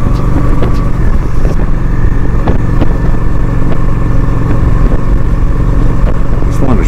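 A Honda Shadow 750 motorcycle being ridden, its engine droning steadily and loudly with constant rumble and wind noise, small clatters over the top.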